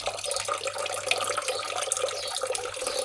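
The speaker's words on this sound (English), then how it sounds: "I know that the water's circulating around the head." Water circulates through the cooling pump of a Warrior PCP compressor, a continuous trickling and gurgling flow with small splashes, close by and moderately quiet.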